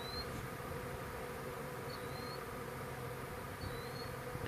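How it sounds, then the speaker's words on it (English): A swarm of honeybees flying around a catch box trap outdoors, a faint, continuous droning hum of many wings with no voices. "there are still bees in the air"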